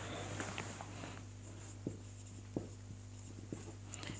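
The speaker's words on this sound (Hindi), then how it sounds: "अब इसके बाद यहाँ पर लिखेंगे हिंदी अनुवाद" Pen writing on paper during a Hindi-medium Sanskrit lesson, heard as quiet scratchy strokes with a few soft taps over a steady low hum, no talking.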